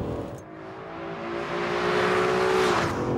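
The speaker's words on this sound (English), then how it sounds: "The engine is a belter. It is such a treat to punish it. It sounds glorious" An SUV engine revs hard and climbs steadily in pitch, a loud sustained roar with a sharp rising whine near the end.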